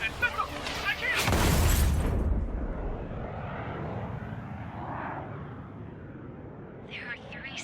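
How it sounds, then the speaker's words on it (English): Osean aircraft in the Ace Combat 7 video game: a loud jet roar swells and sweeps past close by, then fades into a lingering engine rumble, with voices talking briefly at the start and end. "The approaching Osean aircraft."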